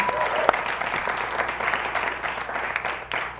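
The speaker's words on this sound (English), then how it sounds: "Let's give him a round of applause" Applause from a live talk-show studio audience in Minnesota, a dense steady wash of clapping lasting a few seconds with faint voices mixed in.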